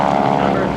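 GEICO Skytypers vintage tailwheel aircraft landing in gusty crosswind at an air base open house, a steady loud propeller engine drone held close throughout the brief moment.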